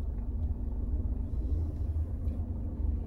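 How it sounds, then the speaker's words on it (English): A car pulls away slowly as the clutch is lifted, giving a low, steady engine rumble heard from inside the cabin with no talking. "And then just slowly lift the clutch up and the car will slowly go"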